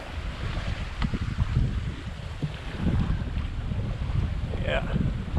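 Sailboat underway in 10 to 13 knots of wind off the US Virgin Islands, with steady wind buffeting the microphone and water rushing along the hull, a continuous rough roar throughout.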